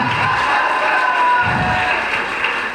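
Live audience at a Tamil film event honoring actor Sasikumar cheers and applauds, a dense continuous roar of claps and shouts filling the whole stretch without pause.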